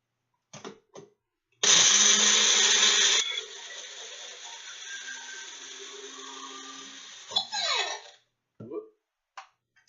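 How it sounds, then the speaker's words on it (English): A Bullet blender whirs loudly as it blends pineapple chunks with juice, starting with a harsh, bright motor surge that settles into a steadier, lower churn for several seconds before stopping, surrounded by clicks and clatter of handling the cup. "what I like about the bullet is you can pick it up and shake it and get the stuff blended up"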